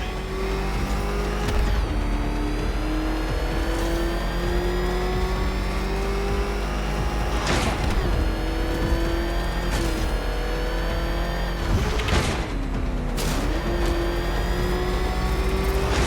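A Batmobile engine roars and revs continuously in the Arkham Knight video game, its pitch rising and falling through gear shifts, with sharp bursts and mechanical clunks cutting through the steady loud drone.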